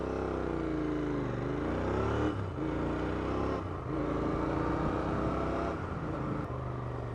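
A Royal Enfield Continental GT or Interceptor twin motorcycle engine drones steadily and close, its pitch rising and easing through a few throttle changes and gear shifts with a smooth, continuous exhaust note.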